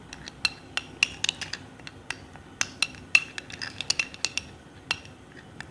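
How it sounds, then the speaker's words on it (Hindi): A utensil clinks and scrapes in a bowl while a guava skin-care mixture is stirred, giving light, irregular metallic taps close by with no voices. "इसको मिक्स कर लेते हैं अच्छी तरह से"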